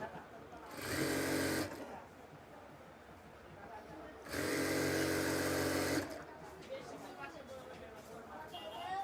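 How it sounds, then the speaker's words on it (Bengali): A sewing machine stitches palazzo trousers in two loud, steady runs, one of about a second and a longer one of nearly two seconds, with someone talking in between. "তো দেখেন আমরা এই যে এভাবে মিলিয়ে সেলাই করব।"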